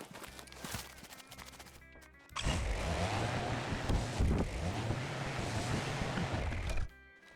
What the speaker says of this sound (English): Let's go grab the vehicle.